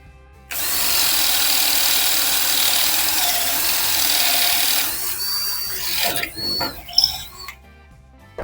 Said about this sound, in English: whenever you're using that Forstner bit, it just launches those chips out